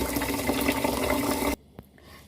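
Rice being washed in water while cooking Thai food, a loud continuous swishing and pouring of water that stops abruptly, followed by near silence with a single faint drip or knock.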